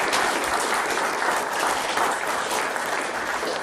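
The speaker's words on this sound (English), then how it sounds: "if we can have a round of applause for our election candidates" Audience applause for election candidates at a sixth form students' question session, a dense, steady wash of many hands clapping throughout, fairly loud and sustained.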